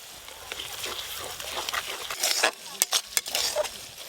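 Cumin and dried chili paste fries in a pan of masala for a Bengali fish curry, a soft sizzle broken by sharp spoon scrapes and clinks against the pot as it is stirred.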